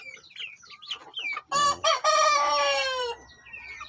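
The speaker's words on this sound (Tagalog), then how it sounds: "So bali si Red yung tatay nito guys. And then yung ating hen is yung bungtan." Chickens on a backyard farm cluck in a quick run of short calls, then one bird lets out a loud, drawn-out crowing cry lasting over a second, close by with no talking.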